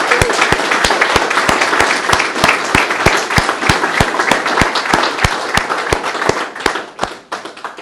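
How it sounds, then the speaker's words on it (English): A crowd applauding the sponsor Drennan at a winter pole fishing championship event, with clear individual hand claps standing out near the microphone over the dense applause, which thins and fades toward the end. "So I want a massive round of applause,"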